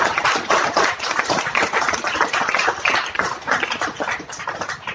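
Dense, sustained applause from a large audience fills the space, a steady wash of many hands clapping together without a pause.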